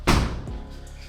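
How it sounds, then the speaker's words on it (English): An interior door is pushed shut with a single solid thud near the start, followed by a faint rattle and quiet room tone. "Let me shut the door."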